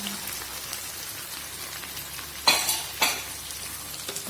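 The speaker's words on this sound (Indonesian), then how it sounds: "Kalau sudah rame, kita masukin telur asin yang kuningnya ya teman-teman." Squid frying with salted egg yolk in a pan, a steady soft sizzle throughout with two sharper scraping stirs of a utensil near the middle, no voices.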